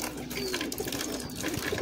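Madrasi high-flying pigeons in a Kolkata loft, making soft cooing and restless stirring within a steady, busy room ambience.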